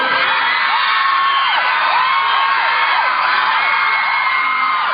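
A crowd of children screams and shrieks together, high and continuous, many overlapping voices held at full loudness throughout.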